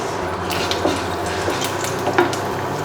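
Mustard seeds, cumin and a dried chili sizzle in hot ghee for a raw mango rasam, giving a close, steady frying hiss with small pops and light stirring scrapes.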